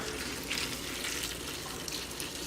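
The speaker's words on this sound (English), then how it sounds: "Very carefully, come over and simply slowly pour this boiling water" Boiling water being poured slowly from a kettle into an Instant Pot while making carnitas, a steady soft splashing stream, close and continuous with no talking.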